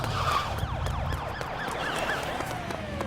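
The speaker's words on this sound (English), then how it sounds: "Reinforcements from the LCBI arrive with a flurry of sirens." Police sirens in the video game Love and Deepspace wail in several overlapping, rising and falling sweeps, loud and continuous against a busy background.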